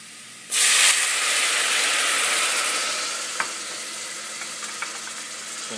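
Vinegar hits a pan of sizzling onions and garlic with a sudden loud burst of frying hiss, which then settles into a steady crackling sizzle with a few small pops.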